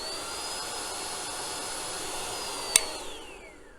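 A Tineco Pure One S12 cordless vacuum cleaner runs with a steady high whine and airflow hiss, a sharp click near the end before the motor pitch drops as it winds down.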